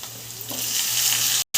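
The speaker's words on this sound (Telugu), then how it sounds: "ఇప్పుడైతే టమాటా వేసుకుందాం" Tomatoes go into a pan of softened capsicum and start frying, with a steady close sizzle that swells loudly after they drop in and then cuts off briefly near the end.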